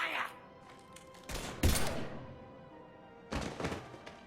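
Gunfire bursts in the Mass Effect 3 video game, two loud broadband volleys near the middle and end of the clip with thuds between, over faint background ambience.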